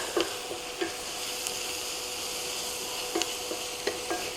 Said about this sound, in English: add 2 teaspoons of minced garlic. Stir that in for about 30 seconds